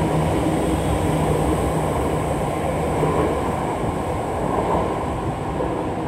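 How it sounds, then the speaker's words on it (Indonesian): Steady rumble of a subway train and station ambience at the MRT Blok M station in Jakarta, a continuous loud wash of rail noise with no talking. "stasiun MRT Blok M."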